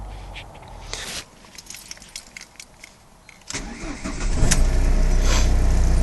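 A 2002 Ford Focus 1.8 engine with a faulty alternator cranks with a few clicks and whirs, then catches and starts, settling into a loud, steady idle close by.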